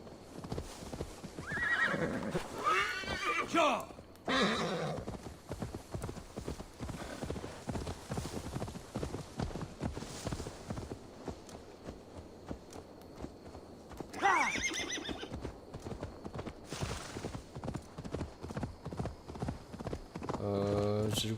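Horse in Assassin's Creed Valhalla neighing twice with loud whinnies while hooves clip-clop in a steady galloping rhythm throughout, with someone talking over the game sounds.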